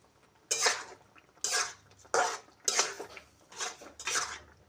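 Jute leaves with garlic are stirred in a pan on a stove, giving six separate scraping clatters of a spoon against metal in an uneven rhythm, close and clear with quiet gaps between strokes.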